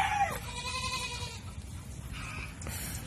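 Farm goats give a couple of short bleats, faint and somewhat distant, over low background noise.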